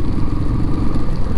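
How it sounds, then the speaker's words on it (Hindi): An old Royal Enfield Classic 350 single-cylinder engine runs with loose tappet shims, giving a close, steady, loud mechanical clatter over a low throbbing rumble. "इसके टैपेट शिम्स सब हिल चुके हैं, सब खटखट खटखट कर रहा है"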